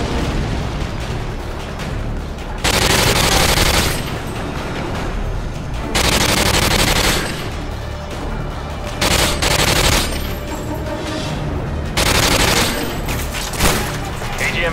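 AGM missile strikes in the video game Modern Warfare 2 land as repeated heavy blasts in roughly regular bursts over continuous loud gunfire and battle noise, with faint radio-style voices mixed in.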